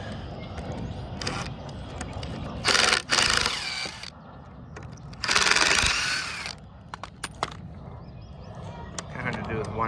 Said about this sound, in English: so now I'll start taking the screws out of the frame